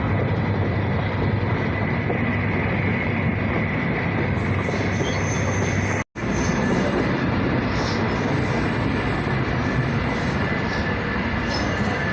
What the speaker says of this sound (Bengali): আর যেহেতু দায়িত্বে রয়েছে ইএমডি লোকোমোটিভ, গতির খেলা তো অবশ্যই হবে।